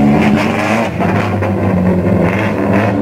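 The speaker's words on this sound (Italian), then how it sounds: "MX5 con motore Hayabusa 1300" A Mazda MX-5 fitted with a Suzuki Hayabusa 1300 motorcycle engine revs hard with a high, buzzy, motorcycle-like whine, loud and close, holding steady for a few seconds.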